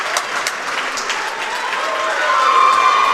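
Crowd at a high school wrestling meet in Jesup cheers and applauds steadily, a dense wash of clapping that swells slightly louder toward the end, with no talk over it.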